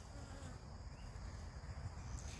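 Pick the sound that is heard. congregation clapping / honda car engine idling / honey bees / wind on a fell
honey bees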